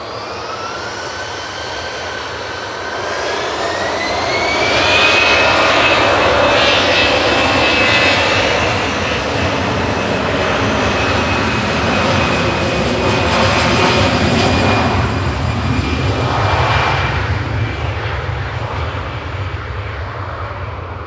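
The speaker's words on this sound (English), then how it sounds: "That was EasyJet flight 2101 over to La Rochelle, operated by GEZRY, 6-year-old A320 Classic" A six-year-old EasyJet Airbus A320 departs Manchester Airport, its jet engines swelling into a loud, sustained roar with a rising whine, peaking mid-climb and then slowly fading as it moves away.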